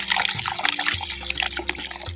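Water poured into a pot of amla (gooseberry) rasam, a steady close splashing and gurgling stream lasting the whole stretch with no talk.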